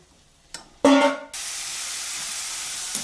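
Onion, tomato and garlic going into a hot pan for okra kuzhambu, a couple of brief knocks, then a sudden burst of sizzling that settles into a steady, close hiss lasting to the end.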